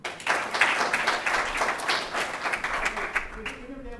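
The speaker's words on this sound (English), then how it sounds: "You should give yourself a round of applause" Audience at a UX design workshop breaks into applause, a steady burst of many hands clapping that fades out toward the end, with a voice starting to speak as it dies away.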